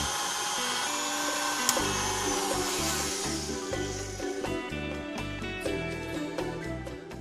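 Electric mixer with a clean whisk attachment beating egg and mascarpone cream for tiramisu, a steady loud motor whir running throughout with a brief bump in speed partway through, no talking.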